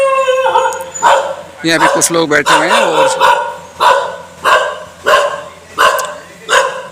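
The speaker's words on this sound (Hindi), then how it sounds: "ये कुत्ता मेरी तरफ भौंक रहा है भैया" A dog barks repeatedly at a person outside an ashram in India, loud nearby yelps and howl-like barks in a regular rhythm, with someone talking over the first barks.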